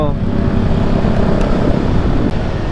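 Motorcycle engine running close by, a loud steady rumble that holds for the whole clip with a brief dip near the end, heard amid outdoor roadside noise.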